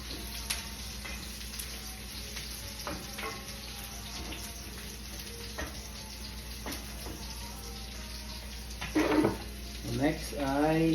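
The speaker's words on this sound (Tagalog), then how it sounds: "nagisa natin yung sibuyas bawang" Onion and garlic sauté in a pan for ginisang patola, a soft continuous sizzle with occasional stirring clinks, while someone talks near the end.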